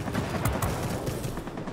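Aircraft cannon fire from a plane in World of Warplanes, a continuous rattling barrage of rapid shots holding steady and loud throughout, with no voices.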